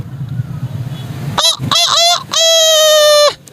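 A voice imitates a rooster crowing, a loud, close call rising in short bursts then holding a long strained note, after a stretch of low murmur.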